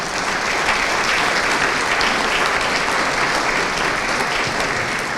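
Sustained applause from an audience greeting panel guests at a formal session, dense and even throughout, loud and close with no break.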